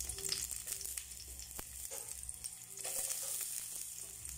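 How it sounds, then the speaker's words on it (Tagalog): Onion sautéing in a pan as mechado is started, giving a steady, quiet sizzle and frying crackle with a few soft stirring knocks, heard alone without talk. "Kailangan natin isaute yung ating onion."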